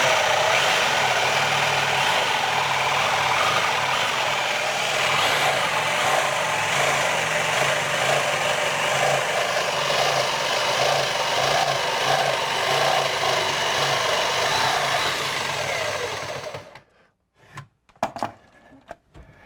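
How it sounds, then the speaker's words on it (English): A jigsaw cutting through the center stile of a door, a loud, continuous buzzing rasp held close for about sixteen seconds before stopping abruptly, followed by a few light knocks. "it's a little handier to do with the jigsaw, a little quicker"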